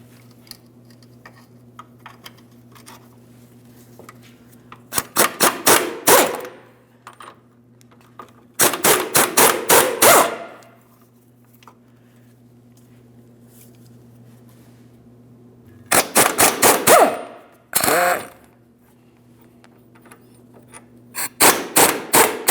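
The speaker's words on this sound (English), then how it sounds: "I have support under here, let's remove those bolts." Rapid rattling bursts loosen the 18mm starter mounting bolts on a 2005-2010 Chrysler 300 with the 5.7L V8. Five loud, close hammering bursts of a second or so each are separated by quiet gaps over a steady low hum.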